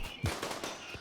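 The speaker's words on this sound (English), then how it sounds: "those EMP grenades are the best" An EMP grenade goes off in RimWorld, a short sharp pop with a low thump, quickly fading into a quieter background.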